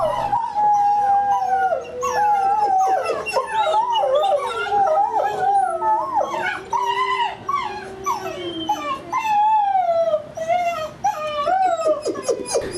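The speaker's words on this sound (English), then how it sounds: "Boltz howling again." A dog named Boltz howling in long, wavering rising and falling tones, with other dogs whimpering and yipping alongside, loud and close.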